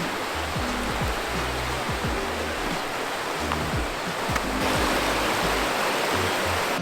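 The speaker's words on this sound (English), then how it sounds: "I'm going to take you down to the waterfall." Steady, broadband rush of a waterfall near Dubrovnik, Croatia, heard up close and loud for the whole stretch, with low rumbling and thudding underneath and no voices.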